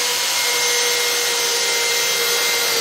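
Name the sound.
Milwaukee Fuel and Kobalt XTR hammer drills driving wood fasteners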